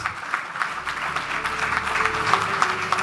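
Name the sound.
applause for the winners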